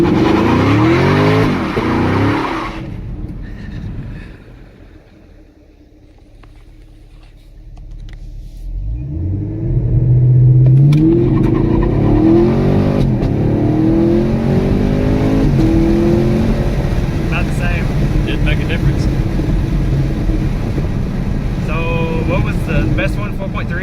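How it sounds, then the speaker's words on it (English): A 2019 Chevrolet Camaro SS with a 10-speed automatic does a short burnout and launches: loud V8 revving and tire spin, a brief lull, then a sustained roaring acceleration with rising engine pitch, with people talking over it. "You're gonna do a burnout? And a little one."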